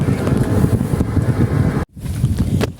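A diesel engine with its exhaust pipe broken off runs loud and close, with a rough, gusty chugging and a brief dropout near the end.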